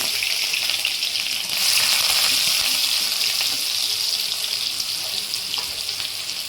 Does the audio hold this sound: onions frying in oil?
yes